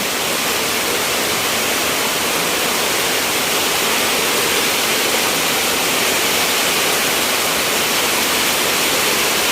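Flood water from heavy rain pours into a house in a loud, constant broadband rush, steady and unbroken throughout with no voices standing out.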